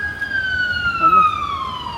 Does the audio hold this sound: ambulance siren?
yes